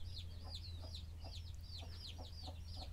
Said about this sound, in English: that's the new baby ducklings, and they're less than 24 hours old